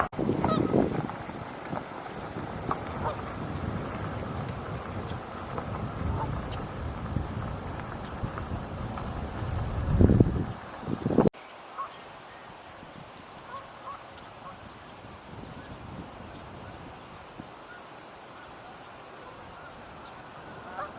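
Canada geese honk in a loose, noisy flock at Montezuma National Wildlife Refuge, calls overlapping under rushing wind, then the honking thins out and a quieter breezy background remains.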